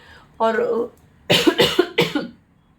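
A brief vocal sound, then a quick series of three or four harsh, close coughs in a row.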